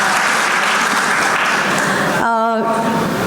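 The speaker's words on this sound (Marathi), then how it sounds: "आपण एक जोरदार टाळ्या होऊन जाऊ द्या" Applause from an audience at a Prem Sneh Foundation community gathering in Sangamner, a dense, steady clatter of many hands, with a brief tonal cry or whistle near the end.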